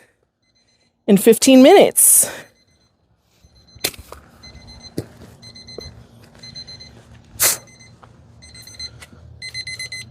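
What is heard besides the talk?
timer alarm going off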